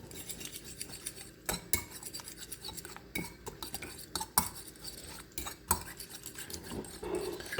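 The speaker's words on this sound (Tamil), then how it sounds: "இதை நல்லா பீட் பண்ணி காட்டுறேன் உங்களுக்கு." Country chicken eggs being beaten in a bowl for a tomato omelette, a utensil clicking and scraping against the bowl in quick, uneven strokes, close and fairly quiet.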